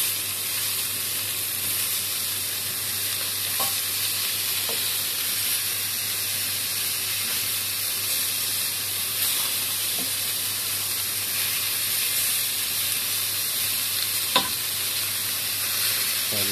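Garlic fries in a pan for lamb chops, giving a loud, continuous sizzling hiss with occasional scrapes of stirring, no talking.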